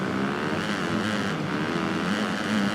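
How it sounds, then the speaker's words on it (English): A motocross bike engine idles and revs in Monster Energy Supercross 2, a steady buzzing drone with slight pitch wobble, moderately loud and alone. "Let's rev it up and get going then."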